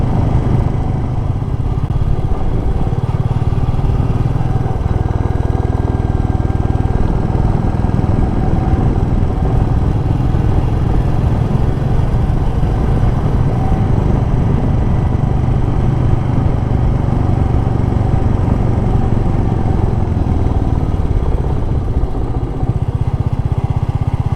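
Royal Enfield Meteor 350 motorcycle riding along, its steady single-cylinder engine drone loud and continuous with low rumble and wind, no talk.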